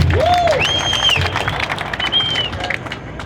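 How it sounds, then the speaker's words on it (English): A crowd at an outdoor public event applauds law enforcement, and loud dense clapping mixes with cheers and whistles that taper off slightly toward the end. "Let's give the law enforcement a round of applause."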